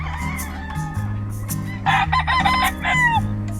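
Several Flary Eye Gray gamecock roosters crow on a farm in the morning, overlapping calls near and far over a steady low hum, with occasional clucks.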